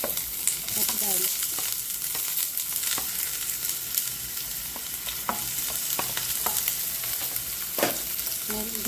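Onion and garlic sizzle steadily in hot oil in a pan, stirred now and then with soft scraping clicks, for a home-style Filipino shrimp dish. There is no talking.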